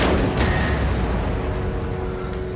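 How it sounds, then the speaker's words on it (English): Cannon fire in Empire: Total War, a Napoleonic-era strategy game, rolling as a continuous low rumble of booms and distant volleys throughout, with a sharp report near the start. "See, I love cannons."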